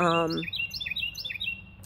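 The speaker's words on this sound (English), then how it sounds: "You can hear the birds right now singing." A voice speaks briefly, then a bird sings a quick series of bright, repeated chirps close by.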